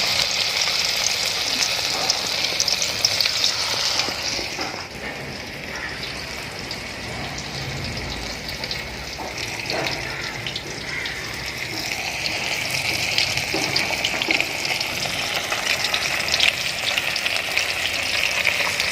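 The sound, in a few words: anchovies (nethili fish 65) frying in oil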